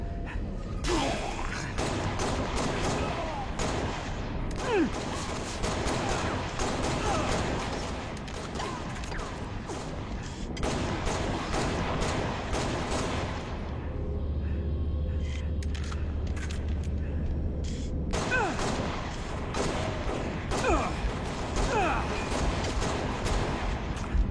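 Pistol gunfire in a video game match limited to pistols and headshots, with scattered shots and thumps throughout, mixed with game sounds and people talking.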